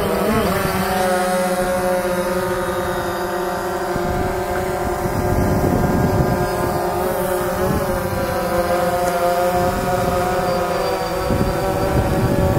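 Stock and 9450 propellers on a DJI Phantom drone whir in a steady, loud, close drone with constant harmonic whine and slight wavering, continuous throughout without speech.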